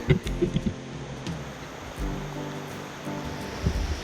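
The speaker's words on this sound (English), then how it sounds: "If you can hear me through the rain and the roaring brook behind me" A roaring mountain brook and falling rain near a footbridge on an Adirondack hiking trail give a steady broadband rush close by, with a few soft thumps and rustles over it.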